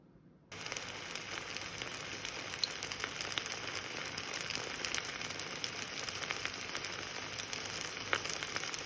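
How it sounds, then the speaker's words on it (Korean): A pancake with baby octopus, spicy chili and kimchi sizzles steadily in a pan, a dense, even crackle that starts abruptly and continues loud and unbroken with faint pops throughout. "오늘 점심은 어, 쭈꾸미를 썰어 넣은 그리고 매운 고추 넣은 부침개를 부쳐 먹으려고요."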